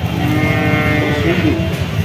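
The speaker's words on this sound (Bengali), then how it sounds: "এটা সিন্ধি জাতের বাছুর" A Sindhi breed calf moos steadily against a constant noisy background at a cattle market, its low voice sustained across the whole moment.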